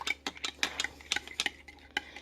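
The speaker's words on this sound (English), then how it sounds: "Just want to stir it up really good." Spoon stirring a frothy yeast-and-sugar mixture for a homemade CO2 bed bug trap, a steady series of quick scraping clinks against the container, close and fairly quiet.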